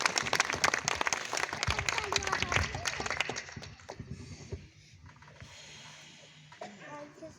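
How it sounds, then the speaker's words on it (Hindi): Applause greets the bride at a Buddhist wedding in Lavkush Nagar, Chhatarpur, a dense burst of clapping in the first half that thins and fades toward the end, with some voices mixed in. "जोरदार तालियों से स्वागत किया जाए।"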